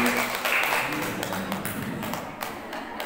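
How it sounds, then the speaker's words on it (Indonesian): Hand clapping from the audience at an Islamic family study session, steady and dense throughout, with voices mixed in underneath. "Tepuk tangan dulu"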